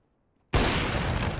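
A sudden loud burst of CS:GO gunfire cuts in after a brief silence, a dense sustained volley or blast that carries on to the end without a break.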